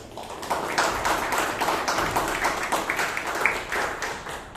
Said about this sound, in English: Let us give a big round of applause to all listeners who were the evaluators who gave us such feedback.